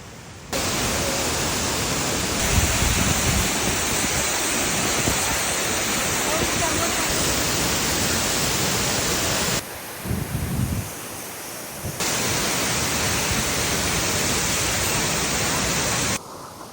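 Roaring waterfall in a forested hill area, a loud continuous broadband rush of falling water that holds steady throughout, briefly dipping and shifting partway through, with no voices.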